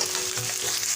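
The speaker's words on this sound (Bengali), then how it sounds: "আলুগুলো ভেজে নেব" Potato pieces sizzle in hot oil in a pan over low heat, a steady dense crackle heard close up throughout, with a soft stirring scrape and no voices.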